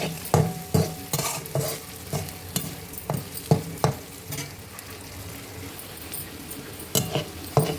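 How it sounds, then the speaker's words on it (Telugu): Moong dal frying in a pan for a spinach dal, with a spoon scraping and stirring in quick irregular strokes over a low, steady sizzle, fairly close and with no talk. "ఇప్పుడు పప్పు వేసుకోవాలి, ఇందులో పెసరపప్పు. ఇది కొంచెం వేగాలండి"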